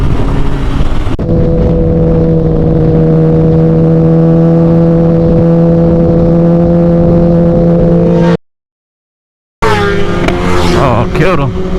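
Kawasaki ZX10 motorcycle at a drag racing test session, its engine holding a loud, steady high-revving drone with strong harmonics as it runs, then cutting out abruptly to silence before a brief burst of noise returns.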